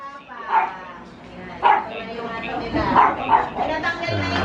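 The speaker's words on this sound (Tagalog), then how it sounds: "Sure lang ingay ng aso." A dog barks several times at a house under renovation, sharp close barks spaced irregularly, mixed in with a person talking.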